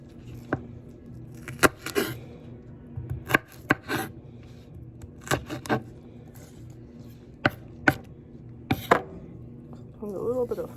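A knife chops washed scallions on a cutting board, slicing at a slight angle in quick clusters of sharp, close taps with short pauses between, while a person talks softly over the cutting.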